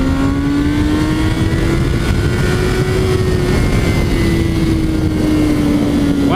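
A 2017 Honda CBR1000RR motorcycle engine held around 7,000 RPM in second gear, giving a loud, steady, continuous drone with a slowly wavering pitch and no talking.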